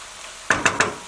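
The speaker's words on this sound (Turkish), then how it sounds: "Şöyle bir karıştıralım maydanozu da koyduktan sonra." Three quick scraping strokes of a utensil stirring chicken and parsley in a pan, over a faint steady hiss of cooking.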